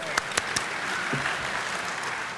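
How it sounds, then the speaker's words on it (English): A conference audience at DEF CON claps in sustained, even applause filling the whole stretch, with a few sharper claps standing out near the start. "Let's give Dustin a round of applause."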